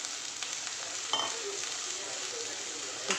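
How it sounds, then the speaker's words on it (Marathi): Potatoes frying with onions in a pan over a low flame for a spinach and garlic dish, a steady soft sizzle with faint stirring clinks, close and alone with no talk. "आता टाकते बटाटे।"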